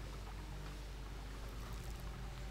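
Water level dropping in the video game The Legend of Zelda: Twilight Princess, a low, steady rumbling wash of moving water that stays constant and fairly quiet throughout, with no voices.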